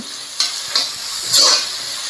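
Sliced onion sautéing with a pinch of salt in a pan for Dragon Chicken, with a close, bright sizzle broken by three distinct stirring scrapes.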